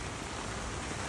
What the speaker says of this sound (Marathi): पाणी कंटिन्युअसली वरून पाऊस पडतोय आता